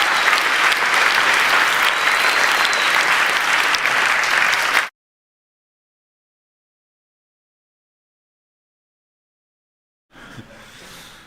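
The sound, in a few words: audience applause for hackathon finalists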